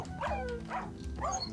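Wolf dog in Minecraft, three short whiny yelps or barks repeating about every half second, clear and close over a steady low game hum.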